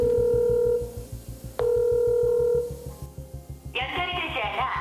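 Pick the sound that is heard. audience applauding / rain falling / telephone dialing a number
telephone dialing a number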